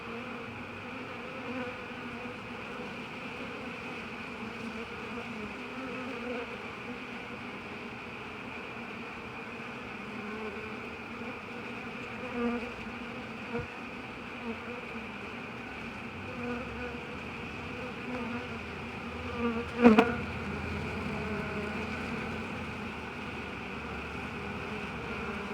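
A swarm of bees being removed from a cellphone tower on a rainy day drones in a continuous, even buzz, with a brief louder rustle near the twenty-second mark.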